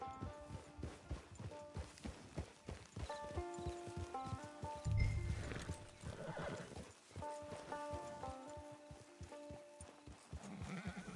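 A horse in a video game gives a loud whinny while its hooves clip-clop in a quick steady rhythm, with soft background music underneath.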